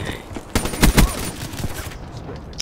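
Hip-fired gunshots in the shooter Black Ops 3, a quick burst of several sharp, close shots over about half a second, followed by quieter scattered game noise.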